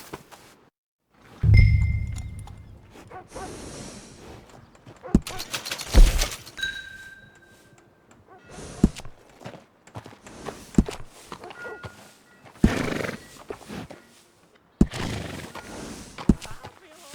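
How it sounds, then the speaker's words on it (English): A horse in the video game Red Dead Redemption 2 gives a loud, close whinny and a snort, followed by scattered hoof thuds, shuffling clip-clop and short bursts of movement. "I got a fella who's been looking for a decent workhorse like this for a while."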